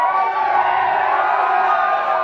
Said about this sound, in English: Oh, the crowd, they're getting into it today.